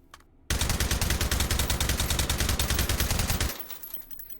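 Suppressed AK 101 fired in the VR shooting game H3VR, a loud, rapid full-auto burst of closely spaced shots lasting about three seconds, then a quiet tail.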